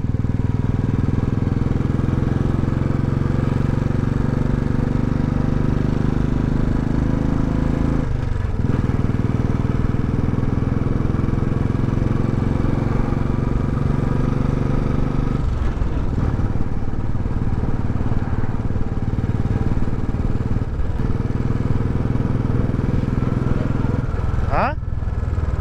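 A motorbike engine drones steadily and loudly from start to finish while being ridden slowly, with wind rumble and occasional clatter, and riders talking over the noise.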